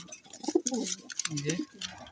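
Pigeons cooing softly at close range, a few low throaty coos mixed with faint talk, quiet overall.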